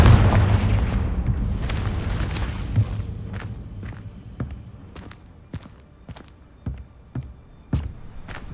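A Confringo blasting spell explodes in the video game Hogwarts Legacy, with a loud booming burst at the start that fades into a series of sharp, spaced thuds and cracks, no talking.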